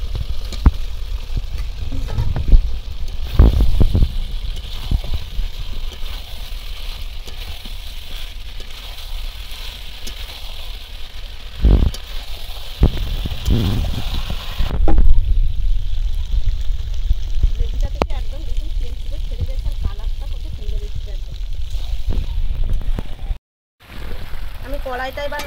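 Chicken curry with fried potatoes sizzles and is stirred in a wok, a continuous frying hiss with scraping clatter, while a person talks over it.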